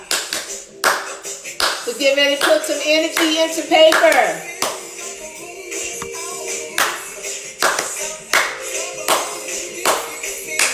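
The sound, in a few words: group clapping hands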